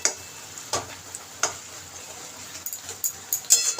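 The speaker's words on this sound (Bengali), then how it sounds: "এবার আমি এইভাবেই মানে নাড়াচাড়া করতে করতে এটা খুব সুন্দর হয়ে যাবে।" Sliced ridge gourd frying in a pan, stirred now and then with a spatula, giving a soft steady sizzle and a few sharp scraping taps close by, with no talking.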